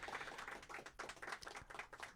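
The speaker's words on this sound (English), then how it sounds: "Give yourselves all a hand so they can hear you out there." Open mic night audience clapping in a community media center, a quiet, thin scatter of hand claps with uneven rhythm over about two seconds, fairly distant and faint.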